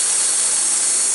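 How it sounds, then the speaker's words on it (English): A Wood-Mizer LT15 portable sawmill engine warms up with a loud, steady drone at close range, an unbroken mechanical hum and whine with no pauses. "I'm going to let the Woodmizer warm up a little."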